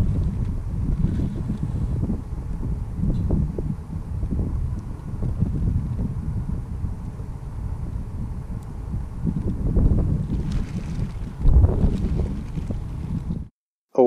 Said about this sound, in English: Here's windy location, so I hope you hear me good.